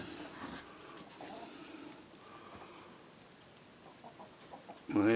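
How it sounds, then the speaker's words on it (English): Chickens in a backyard coop give scattered soft clucks and fowl calls at close range, steady and low-key, with a louder burst of movement or a squawk near the very end. "And this is my chicken coop."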